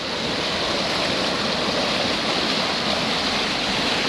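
Water of a stream in a field rushes steadily, a broad, continuous noise that stays even and fairly loud throughout with no breaks or voices.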